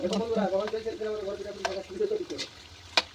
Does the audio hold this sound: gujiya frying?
yes